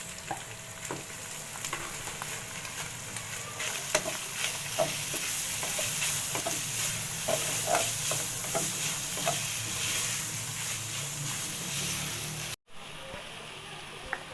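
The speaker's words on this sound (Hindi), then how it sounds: "साथ हम ये कीमा डाल देंगे। इसकी भुनाई हो जाएगी" Minced meat (keema) stir-fried in a pan, with a steady broad sizzle and repeated scraping clicks of a spoon stirring, loud and close throughout, cutting out abruptly near the end.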